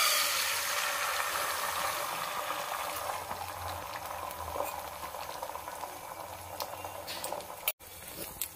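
Beaten egg poured into hot oil in a wok for an omelette, giving a steady, continuous sizzle and bubbling hiss that holds at an even level throughout, with a brief sharp drop near the end.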